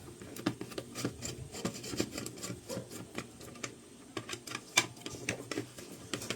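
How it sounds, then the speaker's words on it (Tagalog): A screwdriver works three screws loose while a clothes iron is taken apart. Close, soft scraping and ticking rasps come in irregular bursts, with no voices. "Alasin ko yung ilaw, tapos yung tatlong tornilyo."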